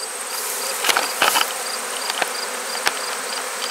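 A large honey bee swarm buzzes outdoors near a tree and a hive box, a dense steady hum with individual bees zipping close past in short bursts.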